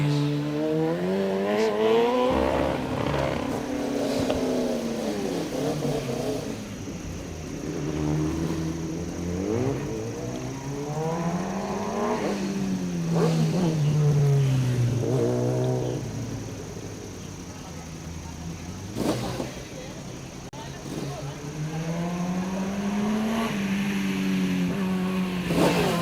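Kawasaki ZX-10R superbike at a hill climb race, its engine rising and falling in pitch through repeated revving and gear changes, loud and continuous with a voice talking over it throughout.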